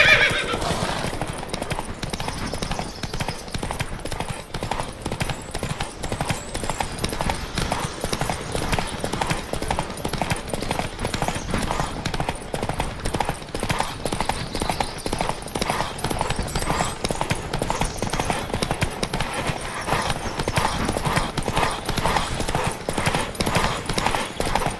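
Rapid clip-clop of several galloping horses in a race in The Witcher 3: Wild Hunt, hooves drumming continuously, with occasional whinnies over the steady thunder.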